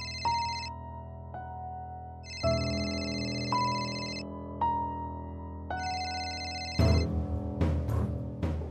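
A telephone rings in a Marathi TV serial scene as a repeating electronic tone in several spaced bursts, with tonal background music underneath and a sharper clatter of sounds near the end.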